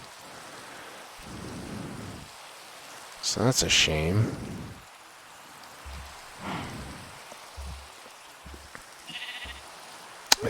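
Minecraft rain patters steadily in a thunderstorm with a low rumble, sheep bleating and blocky game thuds mixed in, while a player talks over it.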